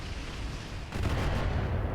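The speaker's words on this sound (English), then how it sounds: "We're going to drop some artillery on the Javelin." Artillery fire in the mech combat video game RogueTech, a dense rumbling barrage that swells louder about a second in and holds as a steady, heavy roar with no voices.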